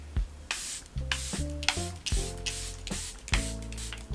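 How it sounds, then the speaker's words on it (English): Charlotte Tilbury makeup setting spray misted onto a face: several short, close hissing spritzes in an uneven rhythm, with soft tonal background music underneath. "I am going to set my face with the Charlotte Tilbury setting spray"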